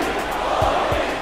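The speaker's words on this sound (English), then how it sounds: "Amid chants of Modi Modi" A large stadium crowd at the Alphonse Stadium in Sydney roars continuously, with a dense, steady wash of many voices that could be chanting, sustained and loud throughout.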